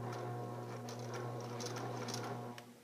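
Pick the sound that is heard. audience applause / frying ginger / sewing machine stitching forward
sewing machine stitching forward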